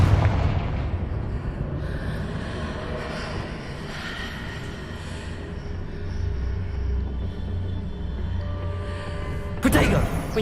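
Confringo fire spell blasts in the Hogwarts Legacy video game, a dense rumbling explosive roar that fills the whole stretch, with a sharp burst near the end.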